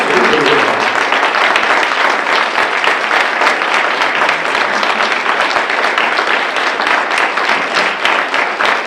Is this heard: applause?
yes